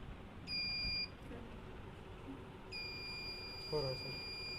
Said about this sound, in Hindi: येलो वाले वायर पे देखते हैं कि बीप कर रहा है क्या।